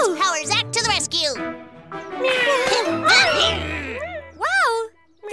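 A cartoon kitten meows over and over in rising and falling cries, mixed with animated character voices talking around it.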